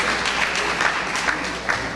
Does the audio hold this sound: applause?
yes